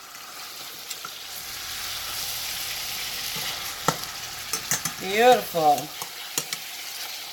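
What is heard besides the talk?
salmon sizzling while frying in a pan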